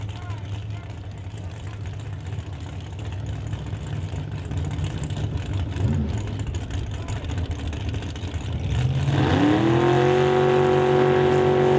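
A Camaro and a Plymouth Barracuda idle and rumble at a drag strip before one engine revs sharply and roars away near the end, loud and close, with an announcer talking over the engines.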